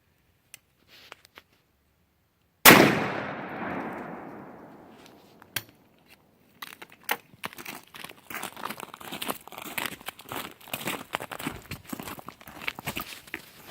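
A 16 gauge Brenneke slug fired through 1.5 inch wooden boards backed by 2x6s makes one loud, sharp blast that decays over about two seconds, followed by scattered rustling, handling and footstep-like crunches.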